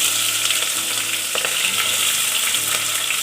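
Red onions sizzle and fry in a pan for chicken biryani, a dense continuous crackling hiss with faint stirring scrapes, close and steady throughout.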